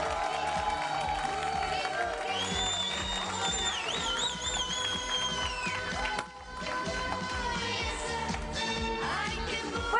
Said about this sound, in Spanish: Recibimos ya con un aplauso a nuestro analista de medios, Miguel Nadal.